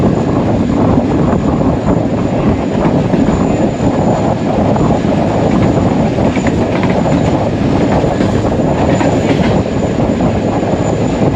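Hazara Express passenger train running on rails in Sindh in winter, a loud, steady rumble of wheels and carriages that carries on throughout, with faint clatter and no talk.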